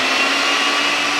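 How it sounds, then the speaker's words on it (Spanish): Steady, loud electric whir of a kitchen mixer beating eggs for a chocolate cake, running continuously with a bright, high-pitched motor hum and no pauses. "Vamos a poner esto en la batidora durante 2 minutos."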